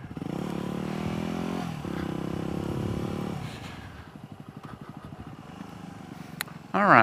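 A Yamaha WR250X motorcycle engine holds a steady loud drone during a test ride, dips and changes pitch at a gear shift, then drops into a slower putter with a rattling pulse before a sudden sharp burst at the end.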